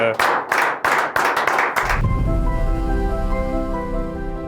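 Audience applause at an outdoor festival gathering, a burst of several loud sharp hand claps in rapid rhythm lasting about two seconds, then giving way to a sustained musical drone.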